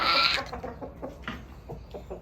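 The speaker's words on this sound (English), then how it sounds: "here's some more chicken roosters." Farmyard chickens and roosters cluck and squawk up close. A loud burst opens, then comes a string of short, irregular clucks with nobody talking.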